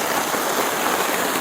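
Rain pours steadily outside a tent in a pine forest at night, a dense, even hiss of drops drumming on surfaces close by.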